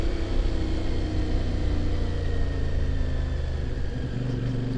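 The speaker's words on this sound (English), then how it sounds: "just flip around the corner, accelerate around, flip around the next corner here, straight around, give it a bit of gas." A CF Moto motorcycle rides along forest roads and around corners, its engine a loud, steady, close drone that barely changes throughout.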